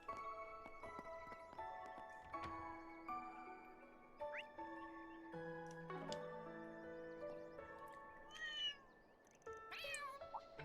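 Several cats meow in the video game Trails through Daybreak 2, a sequence of distinct tonal mews of varying pitch, some overlapping, with short gaps between calls, clear against a quiet background.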